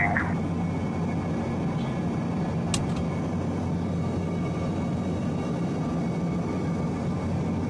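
Airliner engine noise in a video game plane crash scenario as the plane lands, a steady, loud, low drone filling the cabin, with a brief chime and a faint tick partway through.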